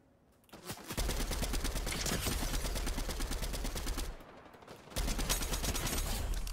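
Rapid automatic gunfire rattles in a Fortnite no-build match, a dense run of fast repeated shots lasting several seconds, a brief drop, then another burst.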